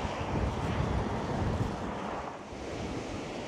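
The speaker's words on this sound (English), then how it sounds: "Well, I can certainly feel the wind now." Strong wind buffets the microphone high on the cliffs at Blackpool before a storm, a continuous loud rumbling roar with a faint wash of surf beneath it and no talking.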